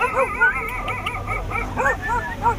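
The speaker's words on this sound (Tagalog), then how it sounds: "May aso nga, sabi ko na." A dog yips and whimpers in a run of short, high-pitched barks and whines, fairly close, with no talking.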